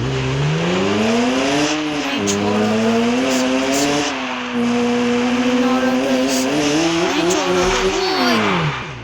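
A car in the mobile game Car Parking revs hard through repeated rising and falling engine sweeps, with brief tire squeals, loud and close, with a voice talking faintly underneath.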